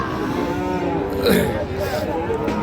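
A Sahiwal breed calf at a cattle market lets out a drawn-out moo, near and clear, over a busy background of people talking.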